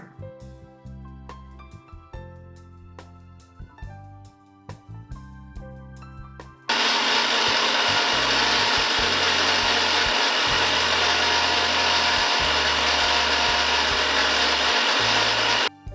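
After a few knocks and light clatters, a home mixer grinder whirs to life blending garlic mayonnaise, a loud, steady high-pitched motor drone for about nine seconds before cutting off abruptly.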